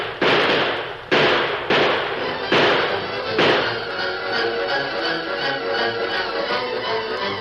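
Gunfire in a radio drama shootout with raiders: several loud, sharp shots spaced about a second apart, then a dense, sustained rattle of overlapping fire and crackle.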